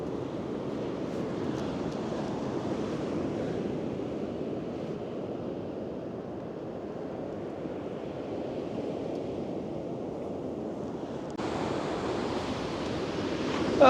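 Steady waves washing onto a beach shore near Pierpont, a continuous soft roar of surf with some wind, even and fairly distant, with no voices, rising slightly near the end.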